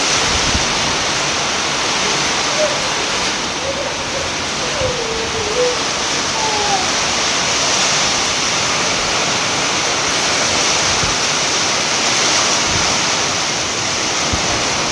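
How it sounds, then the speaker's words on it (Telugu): Dense, constant rush of heavy rain pouring steadily through a window into a new house, close and loud, with no voices, only a faint brief tone in the middle. "ఎంత జల్లు వస్తుందో కిటికీలో నుంచి"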